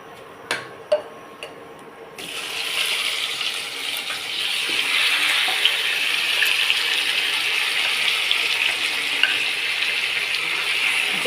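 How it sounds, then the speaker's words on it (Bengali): Marinated chicken hits hot oil tempered with garam masala for chicken kosha, starting a loud, steady sizzle that runs on unbroken after a few clinks of the pan. "এবারে আমি ম্যারিনেট করা মাংসটা ঢেলে দিচ্ছি"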